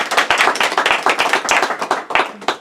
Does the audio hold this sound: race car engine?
no